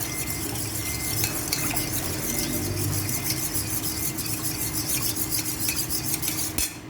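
Spoon scraping and stirring through a creamy coconut milk squid stew (ginataang pusit) in a cooking pot, steady rasping strokes with light metallic clinks, close and continuous without talk.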